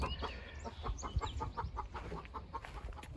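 Meat-project hen sitting on eggs, giving repeated soft clucks in a steady rhythm, close and fairly quiet, with faint scuffling around.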